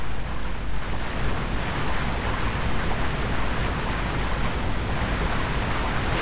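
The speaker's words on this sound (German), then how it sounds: "Ein Wasserfall." A waterfall in the Castlevania Aria of Sorrow video game: a loud, continuous broadband rush of falling water, steady and unbroken throughout, with no voices.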